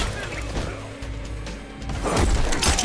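Erron Black's bomb blowing up in the fighting game Mortal Kombat X, a low rumbling crash and impact that swells toward the end over mechanical game effects, moderately loud.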